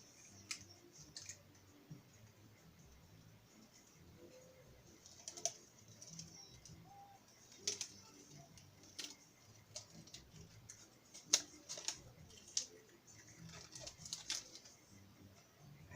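Protective plastic film peeled off an aluminum panel for a craftsman-style box light, giving faint, irregular crackling ticks and sharp little clicks scattered over a quiet, steady background hush, with no voices.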